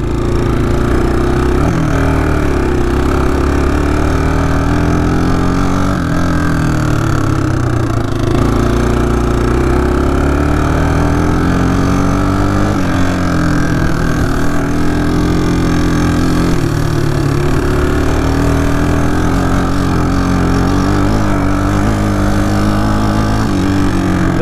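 A 1996 Kawasaki Bayou 220 ATV engine runs loud and close while being ridden, a steady buzzing drone throughout with repeated swells of revving and shifts in pitch as the throttle rises and falls.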